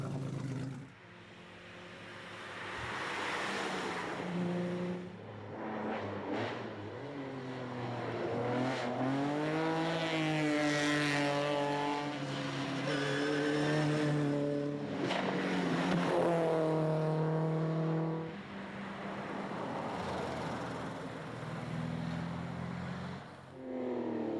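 Vintage Zagato-bodied cars racing on the Montlhéry road circuit, engines rising and falling through gear changes as cars accelerate and pass, loud and continuous throughout.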